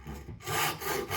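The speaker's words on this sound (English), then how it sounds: "Make sure my saw is actually level and not down to the end" Tenon saw cutting a wooden dovetail joint at a workbench, giving steady rasping strokes close to the bench, with a brief pause after the first stroke before the cutting resumes.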